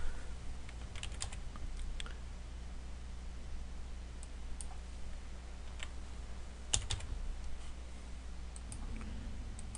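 Computer keyboard typing runs steadily through the whole stretch, with scattered sharp key clicks over a low background hum and no voices.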